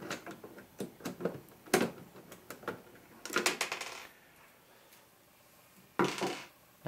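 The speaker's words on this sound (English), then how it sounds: "Take the screws out." A screwdriver backs screws out of a Disk Stakka unit, giving irregular bursts of small metallic clicks, scrapes and rattles close up, with a brief pause before a final clattering burst.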